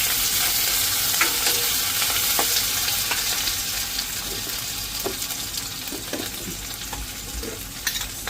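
Curry leaves frying in hot oil in a pan: a loud, continuous sizzle with scattered crackles and the scrape of stirring throughout, no voices.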